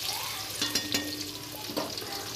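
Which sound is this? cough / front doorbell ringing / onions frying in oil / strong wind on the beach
onions frying in oil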